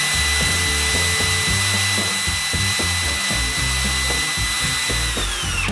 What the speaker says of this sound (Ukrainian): положив велику плитку, слизьку поверхню, і хочу перевірити фрезер на балансування